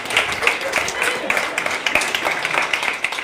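An audience at a conference talk claps, a fairly loud and steady wash of hands from beginning to end with some talking underneath.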